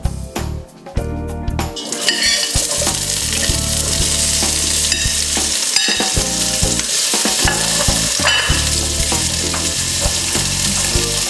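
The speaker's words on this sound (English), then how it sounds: "We're going to start to put those onions and peppers in." Onions and peppers sizzle and fry in a hot pot, a steady loud crackle with occasional stirring clinks of a utensil against the metal, continuing without speech.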